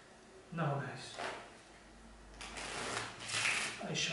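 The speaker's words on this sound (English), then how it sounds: "I shuffle real" A borrowed deck of playing cards is shuffled during a card trick, giving soft riffling and sliding bursts at close range while someone talks over them.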